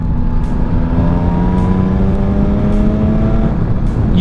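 Yamaha XSR900 motorcycle pulling in 6th gear at about 50 mph from 3,000 RPM, a steady engine drone with rising harmonic tones as revs slowly climb, constant and fairly loud with wind buffeting.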